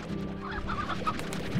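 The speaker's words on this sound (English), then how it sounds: "Look at a whole stock of them." Game hens in Slime Rancher cluck nearby in quick, irregular bursts. The brief, close burst of clucking is heard alone.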